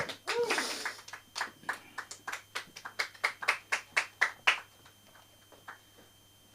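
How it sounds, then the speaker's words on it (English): Audience applause at a comedy show, starting as a dense burst of clapping and thinning into a few distinct, fairly close claps that fade out after about five seconds. "Let's give it up for Julio."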